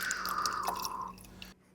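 Water poured while rinsing a plankton net, a close trickling splash with a falling pour tone that stops abruptly near the end, no voices.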